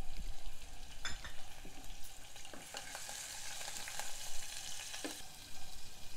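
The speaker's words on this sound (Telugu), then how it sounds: "ఒక అరకప్పు సన్నగా తరిగిన ఉల్లిపాయలు, కొంచెం ఉల్లిపాయలు వేగనివ్వాలి." Chopped green chillies and onions frying in a pan for barley kichidi, a steady close sizzle with occasional stirring scrapes throughout.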